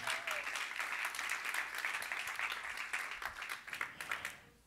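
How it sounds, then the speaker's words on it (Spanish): A church congregation claps in praise, a dense, steady stream of many hands at moderate distance that fades out abruptly at the end. "Dale palmas al Señor."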